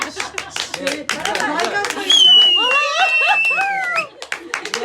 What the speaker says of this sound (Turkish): Alkışlar halama.